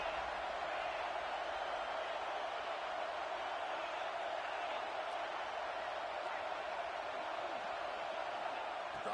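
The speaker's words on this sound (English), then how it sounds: "3rd down, and the crowd really getting into it" Football stadium crowd on third down in a Louisville versus UNC game, a steady, distant roar of massed voices holding constant throughout, faint beneath the broadcast.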